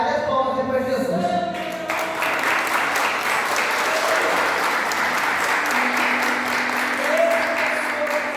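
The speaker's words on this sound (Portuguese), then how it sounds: "as palmas para Jesus" Church congregation applauding steadily, a dense wash of many hands clapping that fills the space, with a brief voice and some musical tones at the start.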